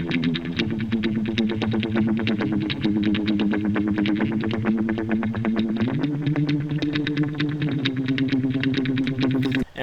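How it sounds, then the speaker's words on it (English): A distorted electric guitar line run through effects plays a steady stream of rapid, evenly pulsed notes. The tone is buzzy and chorus-tinged, and its pitch shifts partway through, with no voices over it. "has a cool little guitar effect line"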